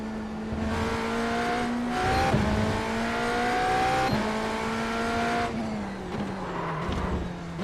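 In a Le Mans racing video game, a race car brakes on a curb and spins around: a continuous engine drone dips and rises with brief tire-squeal and skid bursts, with no talking.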